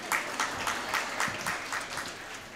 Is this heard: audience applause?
yes